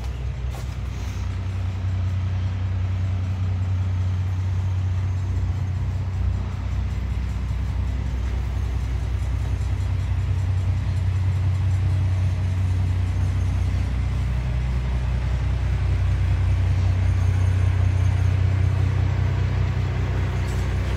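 A school bus engine idles steadily and smoothly, a loud, even low rumble that holds without change for about twenty seconds.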